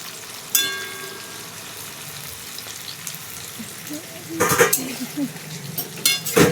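Chicken frying for a home-style biryani sizzles steadily in a pan while a metal spoon stirs and scrapes, with sharp clinks and clatters against the pot in a busy burst near the end.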